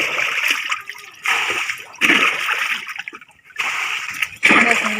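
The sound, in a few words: bailing rainwater out of a boat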